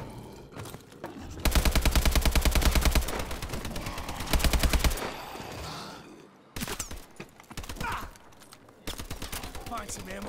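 Rapid automatic gunfire in a zombies video game, loud sustained bursts of closely spaced shots broken by short gaps, with more bursts toward the end.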